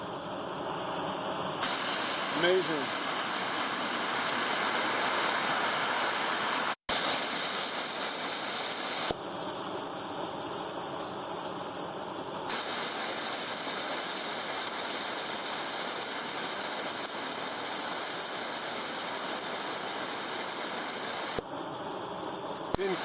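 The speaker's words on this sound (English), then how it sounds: "Waterfalls." A waterfall at the Little Port Walter marine research station in Alaska pours steadily, a loud, close rushing roar filling the whole stretch, with a brief spoken word and a faint chirp early on.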